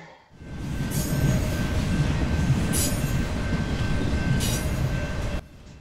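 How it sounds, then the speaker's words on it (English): A video game train rumbles steadily past with loud rolling noise and a faint sustained tone, brief metallic squeals flaring over it before it cuts off abruptly. "the train's not stopping."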